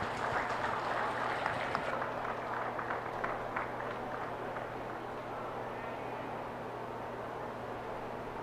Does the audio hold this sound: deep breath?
no